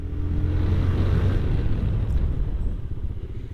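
A 2025 TVS Raider 125 motorcycle riding with dual disc brakes, its engine giving a steady low rumble that eases slightly toward the end, with wind noise and no voices.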